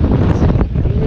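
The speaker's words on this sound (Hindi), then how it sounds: "और ज़बरदस्त हवा चल रही है यार यहाँ पे।" Strong gusting wind at Tandi bridge buffets the microphone in a loud, continuous roar with brief dips, heard alone.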